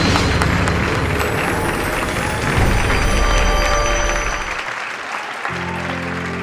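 A crowd applauds steadily with dense clapping for several seconds at a charity gala, then it fades out as a musical tone begins.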